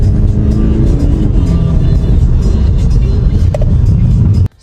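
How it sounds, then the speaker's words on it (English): A Volkswagen Golf R-Line diesel estate car drives along, heard from the cabin as a loud, steady low engine and road rumble that cuts off abruptly at the end. "let's take this GolfR for a test drive because this is a diesel"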